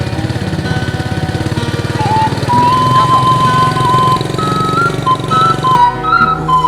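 A small motorcycle engine runs steadily close by in the open, a continuous loud throbbing drone that holds an even pitch and cuts off abruptly near the end.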